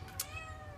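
A three-legged cat lets out a short meow close by, with a brief sharp tap early on and a steady low hum underneath; nobody speaks.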